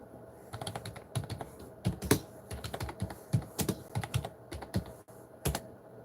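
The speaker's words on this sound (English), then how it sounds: "I like the gaming keyboard's better." Rapid typing on a gaming keyboard, crisp key clicks in irregular bursts and flurries, close and fairly loud, with no voices over it.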